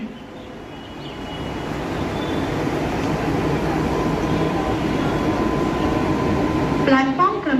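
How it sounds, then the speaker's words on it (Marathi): A Mumbai fast local train bound for Karjat pulls into platform 4 at Kalyan station, its rumble and wheel noise building loudly and steadily, with a platform announcement voice over it near the end. "कल्याण प्लेटफॉर्म क्रमांक 4 पर आई हुई लोकल 6:41 की कर्जत जाने वाली तेज लोकल है"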